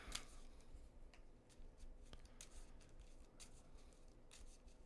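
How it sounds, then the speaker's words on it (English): Mage Knight board game cards being shuffled by hand, a series of quiet riffling bursts and soft card slaps close by at low volume, with no talking. "Shuffle this up."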